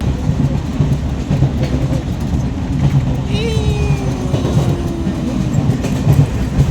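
Inside a moving passenger train, a constant low rumble and rattle of the carriage fills the space, with a faint squeal rising briefly mid-way and murmured voices under the noise.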